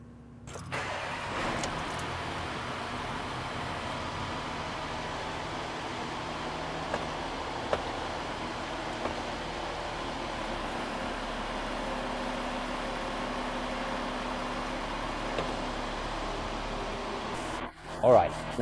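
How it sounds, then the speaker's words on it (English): A Porsche engine with an eight-speed automatic transmission revs up and holds a steady idle-like drone at about 2000 RPM, a continuous even hum that runs for many seconds before cutting off near the end, with no talk over it. "you then rev the engine up to 2000 RPM and hold it there for about 60 seconds"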